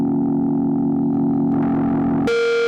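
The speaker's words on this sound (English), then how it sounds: "Bright distortion, dark distortion, right?" A sustained dark distorted guitar tone from a Hologram Chroma Console multi-effects pedal drones steadily, then abruptly shifts to a brighter, harsher distorted sound near the end.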